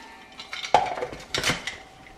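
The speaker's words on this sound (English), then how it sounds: "Let's use a spoon or whatever. Kind of spoon them in." A spoon scoops dried smoked paprika into a grinder, making a few light metallic clinks and scrapes at close range. The taps are soft and irregular, and no one speaks.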